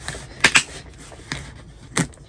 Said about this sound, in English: Let me try and open this with scissors.